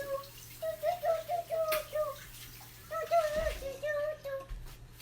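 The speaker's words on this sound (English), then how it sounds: "Actually, I'm going to rinse the lid too." Water from a tap runs over a blender lid being rinsed at home while making almond milk and green smoothies, a steady splashing under a voice and light chatter.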